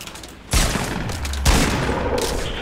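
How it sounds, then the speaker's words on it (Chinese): Gunfire in Fortnite on PC, a loud close burst of shots breaking out, then a second burst that carries on as dense continuous fire. "我刚开枪， 打他两枪"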